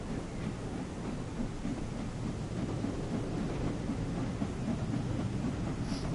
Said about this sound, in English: Unfortunately, the steam train is a rather tad noisy.